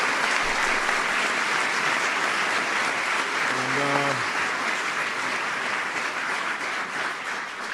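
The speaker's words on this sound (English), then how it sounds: "They deserve a big round of applause for that." A large audience at the White House applauds the Kansas City Royals ownership and players, a dense, even wash of clapping that holds steady, with a brief vocal sound rising out of the crowd midway.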